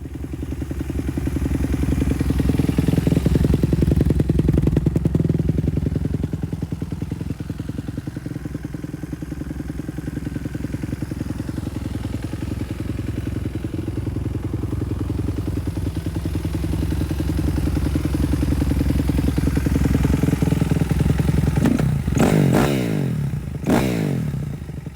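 A restored Kawasaki KX250F dirt bike engine runs close and loud, with a rough, rattling idle that swells and settles. Sharp revs and clatter come near the end, with no talking.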